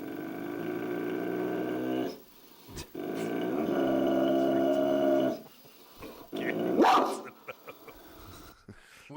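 A dog growls and barks in bursts, with sustained low growls broken by short sharp barks and a whimper near the end, close and fairly loud.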